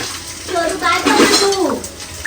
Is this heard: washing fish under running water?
yes